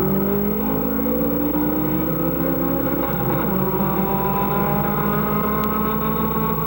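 Street racing cars on city streets produce a continuous, loud engine roar with steady revving and accelerating drone throughout, no talking.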